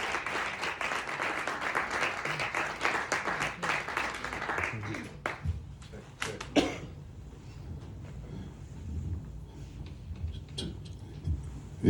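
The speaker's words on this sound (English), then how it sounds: "give a wonderful round of applause again for Miss Camille Grove" Audience applause at a 2019 holiday concert, broad clapping that fills the room for about five seconds, then thins into scattered claps, coughs and low murmuring with a few sharp knocks.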